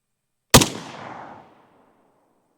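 A single sharp, loud gunshot from a Zastava M70 AK rifle fired at a target, with a booming report that trails off over about a second; no talking.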